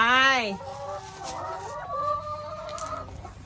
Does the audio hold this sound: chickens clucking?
yes